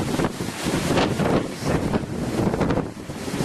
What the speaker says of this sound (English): Palm trees don't mind a bit of wind.